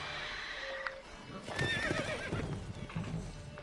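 A horse in The Witcher 3 whinnies amid clip-clop hooves and game ambience, moderately loud, with muffled activity around it.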